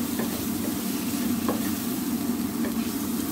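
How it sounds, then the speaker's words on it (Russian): Fresh chopped tomatoes sizzle steadily in a hot pan for a Turkish green lentil soup, with a few soft scraping stirs of a utensil breaking the even frying hiss, close and continuous. "Я добавляю помидоры."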